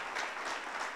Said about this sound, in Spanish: Den un aplauso, papá.